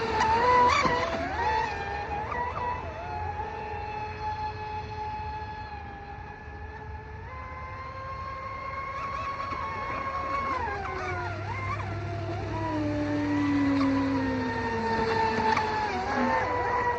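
A stock-motor RC car with a 45-14 setup and a 4082 motor whines steadily for the whole stretch, its pitch rising and falling as it drives, with a faint voice in the background.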